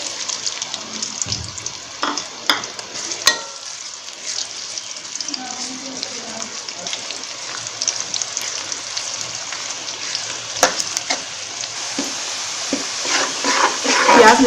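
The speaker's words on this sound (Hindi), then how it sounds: "पहले हम बर्तन में ऑयल डालेंगे, और इसमें प्याज डाल देंगे और प्याज को लाइट ब्राउन कर लेंगे।" Onions fry in oil in a cooking pot, giving a faint, uneven sizzle with scattered clicks and clatter that grows a little louder toward the end.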